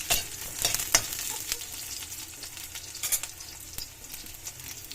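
Miswa noodles with sardines and tomatoes cooking in a pan in a Filipino kitchen, a bright continuous sizzle broken by close scraping strokes and clinks of the stirring utensil, with no talking.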